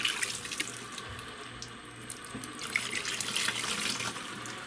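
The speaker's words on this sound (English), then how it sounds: "I've got just a container of water here. I'm going to pour just a little bit of it through here just to try to rinse everything out." Water pours from a container through a 3D printed compost shredder to rinse it out, a steady splashing trickle with bright watery spatter, close and continuous throughout.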